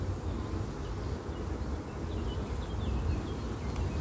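Honeybees hum continuously at a beehive during a spring inspection, a dense steady buzz from many insects with a low rumble underneath, even in level throughout, no voices.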